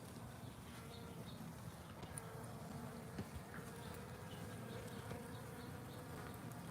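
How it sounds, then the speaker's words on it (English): Worker bees drone steadily on an open hive frame holding brood and eggs, a dense continuous buzz up close with no talking. "These are worker bees,"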